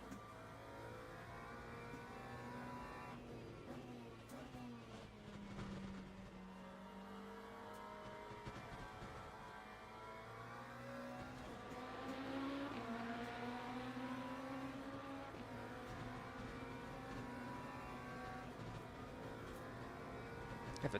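Race car engine in the Le Mans Ultimate racing game, a steady droning hum with rising and falling pitch as it accelerates and shifts, faint and quiet throughout.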